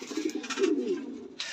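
Black Lahori pigeons cooing close by, a low throaty coo rolling through the short stretch, with a brief rustle at the end.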